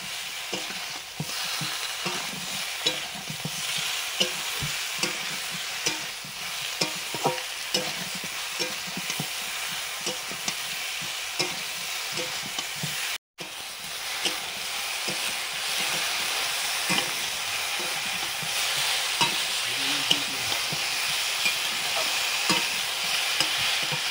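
Flowers stir-fried in a hot pan give a continuous loud sizzle with repeated scraping stir strokes, a brief cut partway through, and no voices.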